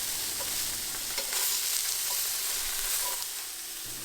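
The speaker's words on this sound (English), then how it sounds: "I'm going to put the steaks in and they're going to go for about 2 or 3 minutes per side, just long enough to get a nice sear on them" Chopped steaks sear in hot oil in a pan with a steady, fairly loud broadband sizzle that runs unbroken for the whole stretch, with small crackles and pops and no voices.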